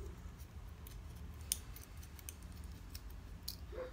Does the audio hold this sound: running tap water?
no